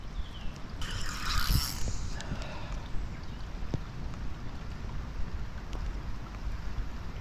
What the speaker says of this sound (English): pissing down with rain.